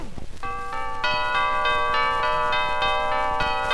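Bells ring out in a steady repeating pattern, bright and sustained tones layered over each other, loud and close.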